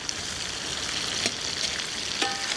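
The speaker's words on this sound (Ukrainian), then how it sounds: "Вкидаємо цибульку і тепер мішаємо" Onion fries in a pan while being stirred during plov cooking over fire, a dense close sizzle with a few sharp scrape strokes of the stirring utensil.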